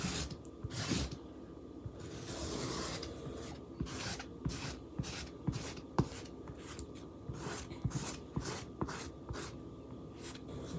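Chalk paste is spread edge to edge over a Chalk Couture transfer on an ornament, giving a soft, close scraping and rasping with repeated short strokes at a steady rhythm, faint and uninterrupted by talk.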